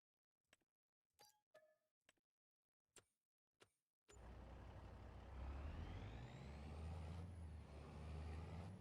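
A truck in Farming Simulator 25: several short clicks and thumps at first, then a loud, steady engine rumble with a rising whine that carries to the end, with no talking.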